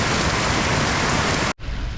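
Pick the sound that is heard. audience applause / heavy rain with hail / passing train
heavy rain with hail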